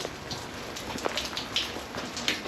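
Rain falls in Shetland, Scotland, a steady close patter of drops on nearby surfaces with scattered louder splats, moderately faint and continuous, with no talking.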